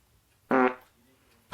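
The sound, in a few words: small fart sound effect played by Alexa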